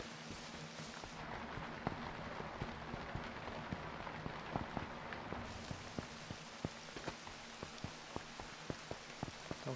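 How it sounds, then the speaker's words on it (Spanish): Rain falls steadily in the survival video game H1Z1, a dense even hiss broken by scattered sharp drip impacts that grow more frequent toward the end, with no talking. "aquí nos podemos resguardar un poco de la lluvia"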